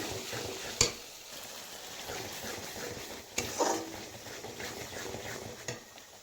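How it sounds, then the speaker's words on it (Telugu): Poppy seeds frying in a pan for a Bengali-style posto fish curry, a soft continuous sizzle broken by a few sharp clicks as a spoon scrapes and stirs the pan, heard close with no talking. "గసగసాలు వేసి చాలాసేపు వేపాలండి"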